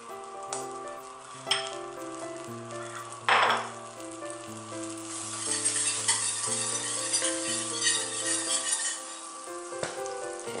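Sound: butter melting and sizzling in a pan for a roux

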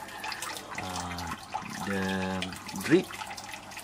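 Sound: water dripping in aquaponics siphon grow bed

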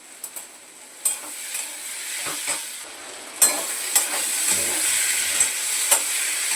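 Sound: sautéing onions in a pan

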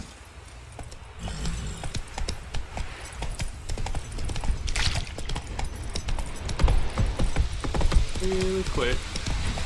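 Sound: horse Roach's hooves clip-clopping, video game The Witcher 3

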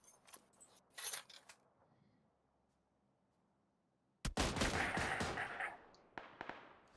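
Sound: gunshots in PUBG Mobile video game

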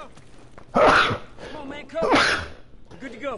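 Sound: sneeze

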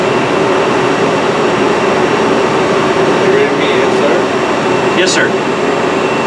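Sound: Citizen M20 Type III CNC Swiss lathe main spindle running at 2500

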